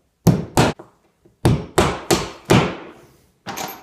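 A hammer strikes close by, driving into drywall to hang wall decor, giving about seven loud, sharp thuds in uneven bursts with short gaps between them and no speech.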